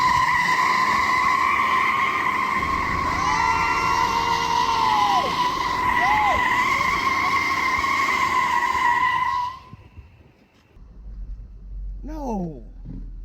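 A Ford F450 dually Powerstroke and a wrecked, rebuilt GMC Duramax pickup strain against each other in a tug-of-war, engines roaring loudly with whining tones and squealing tires. The roar cuts off abruptly near the end, then voices talk.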